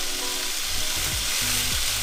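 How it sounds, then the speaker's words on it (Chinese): Pork sizzles steadily in a hot pan, its sides being seared for stewed pork; a dense, close frying hiss runs throughout with a few low scraping touches from turning the meat. "猪肉的四边也让它煎一下"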